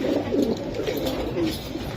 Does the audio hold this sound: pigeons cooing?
yes